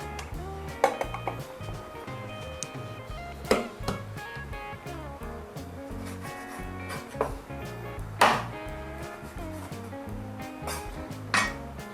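A knife cuts duck beaks in half against a board with a handful of sharp, irregularly spaced chops, fairly quiet, with faint clinks of kitchen utensils between.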